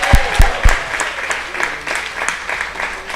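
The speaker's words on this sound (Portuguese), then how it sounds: "uma salva de palmas para o nosso vereador Adalto Carteiro" Audience applause at a special session of a Brazilian municipal chamber honouring a city councillor, with a few loud close claps up front over a steady, dense wash of clapping from the room.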